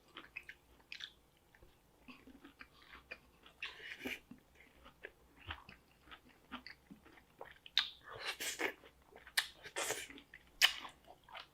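A mukbanger chews pickles close to the microphone, with wet crunching bites and smacking in irregular bursts that grow louder and denser toward the end, quiet between.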